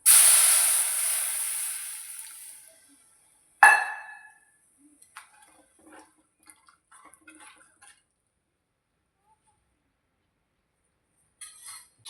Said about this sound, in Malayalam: പൊടികളൊക്കെ പച്ചമണം മാറി ഇതിനകത്തേക്ക് നമുക്ക് ചൂടുവെള്ളം ഒഴിച്ചു കൊടുക്കാം.